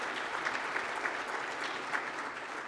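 Applause from an event audience at a city's State of the City gathering in a Portsmouth, Virginia hotel venue, a steady sustained wash of clapping hands at moderate level throughout, with no voices over it.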